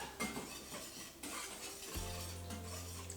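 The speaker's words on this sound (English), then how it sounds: "We're gonna use a little pinch of salt, so about 1/4 teaspoon. And we're gonna mix all of those up." Dry pancake ingredients, including baking powder and a pinch of salt, are stirred in a bowl, giving faint scraping and light clinking of a utensil against the bowl, quiet and close, with a low hum entering partway.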